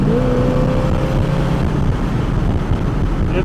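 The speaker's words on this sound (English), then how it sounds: "It's a strong running engine." A 1937 Buick street rod's engine runs steadily while the car drives, a loud continuous rumble with a faint whine and some wind buffeting, no talking.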